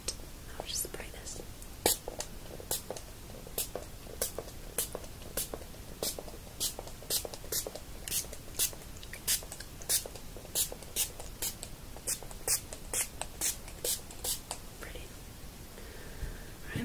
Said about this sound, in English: So I'll begin by spraying my detangling mist onto your hair